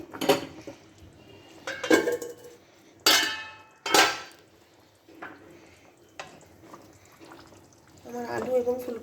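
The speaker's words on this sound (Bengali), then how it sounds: "পাঁচ মিনিট পরে আমি ঢাকাটা খুলে নিলাম" Metal lid lifted off a cooking pot of rui fish curry with cauliflower and potato: a few clanking metallic knocks and scrapes, close, spaced irregularly over a quiet background.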